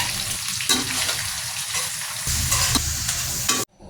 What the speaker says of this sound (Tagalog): Tapos i-continue uli natin yung paghalo.